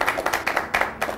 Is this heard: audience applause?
yes